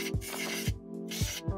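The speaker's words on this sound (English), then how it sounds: "So I'm gonna start with my compressed air." Short hissing blasts of compressed air blow dust off a Glowforge laser cutter's lens and mirror, several quick spurts in a row with brief gaps, close and moderately quiet.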